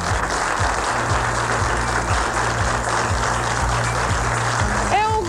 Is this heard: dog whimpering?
no